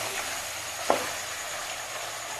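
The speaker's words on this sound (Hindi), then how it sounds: "चिकन अच्छे से भून लिए मैंने" Chicken frying in a pan for chicken jalfrezi, a steady close sizzle throughout with one brief scrape of stirring partway in.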